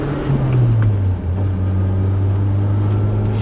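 A BMW E30 M3 being driven, its engine note a steady low drone that dips briefly and then settles into an even cruise, heard loud and close from inside the car with no talking.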